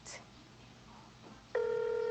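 A telephone call being dialled: a short faint blip early on, quiet room noise, then a loud steady ringback or dial tone that sounds continuously from the midpoint to the end.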